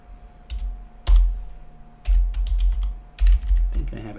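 Typing on a computer keyboard comes in irregular close bursts of clattering keystrokes separated by short pauses, with a low thump under some bursts and a faint voice near the end.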